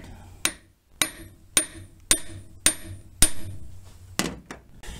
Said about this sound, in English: Then I just tap the end.